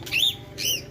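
Two quick high chirps from birds at a zoo, close and fairly faint over a steady low background hum.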